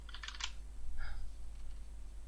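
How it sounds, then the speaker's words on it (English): Brief burst of quick keyboard clicks as a password is typed on a computer keyboard, a few close keystrokes in the first half second, then one faint click, over quiet room hum. "let me enter something, some password"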